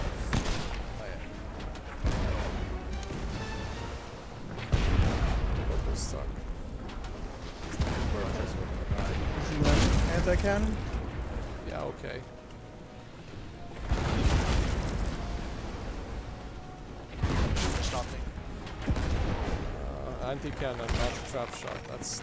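Repeated booming cannon shots in the pirate ship game Blazing Sails, heavy bursts every few seconds with rumbling tails, while players talk over the gunfire.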